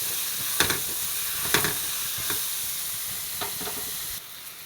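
A large cut tomato sautéing in a pan gives off a steady close sizzle, broken by a few clear stirring scrapes spaced across the clip before the sound drops lower near the end.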